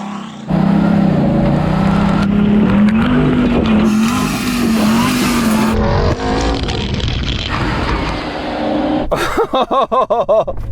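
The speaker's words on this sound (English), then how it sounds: "4-wheel drive low, get into second gear, get some momentum up" A Hennessey Mammoth truck climbs an off-road hill in four-wheel-drive low and second gear, its engine droning loud and close under steady throttle, with a burst of choppy rattling and crunching near the end.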